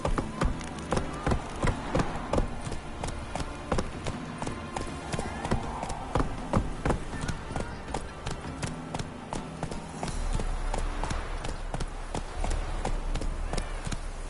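Horse hooves gallop in The Witcher video game, a fast, loud, continuous clip-clop rhythm of running hoofbeats with game ambience underneath.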